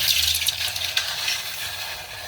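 Milk poured into a hot pan of blackened, roasted fenugreek seeds gives a steady, close sizzling hiss with faint stirring scrapes, and no one speaks.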